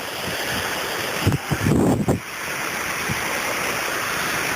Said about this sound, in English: It's actually the spillway for Vasona Reservoir